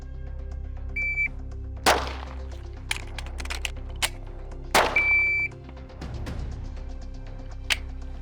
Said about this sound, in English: timer goes off, beep, pow, pow